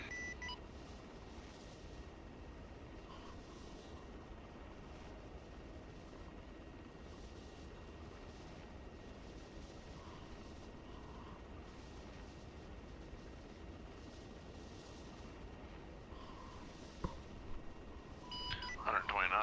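An aircraft engine in the military simulation game ArmA 3 holds a steady, continuous drone as the aircraft climbs, with faint radio-style voices over it.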